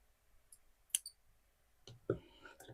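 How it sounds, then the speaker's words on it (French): Scissors snipping a small piece of yarn on a crocheted whale, a few sharp, close clicks spaced apart in an otherwise quiet setting. "Donc je vais couper un petit bout"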